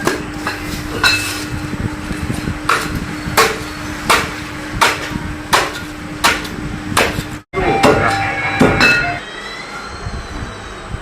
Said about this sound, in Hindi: फटकड़ी कूट पीस कर हम इसमें डालेंगे।